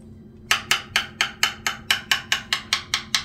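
Repaired carbon-fiber bicycle chainstay tapped with a hard tool: about fourteen crisp, evenly spaced knocks in a quick steady rhythm, close and clear, each with a short ringing decay, and no voices.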